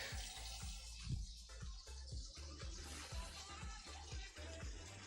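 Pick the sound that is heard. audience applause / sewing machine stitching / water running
water running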